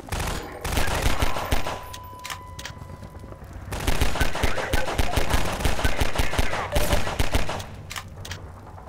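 Bursts of automated turret gunfire in Half-Life 2, rapid rattling volleys that stop briefly and then return as sustained, loud fire for several seconds amid a busy game mix.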